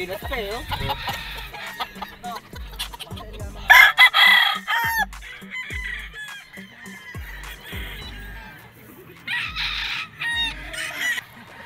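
Straight comb SBR battle stag gamecocks at a gamefarm crow repeatedly, several loud crows rising and falling among clucks, thumps and some background chatter.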